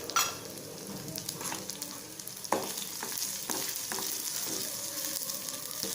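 Fennel seeds and cloves fry lightly in hot oil, crackling up close with sharp pops and the scrape of a spoon stirring the pan.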